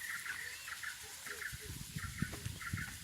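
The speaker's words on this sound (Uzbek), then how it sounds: "Chumchuqlar sayrab turadi" Sparrows chirping outdoors in a forest, giving quiet repeated short chirps in small bursts over a low background rumble, with no speech.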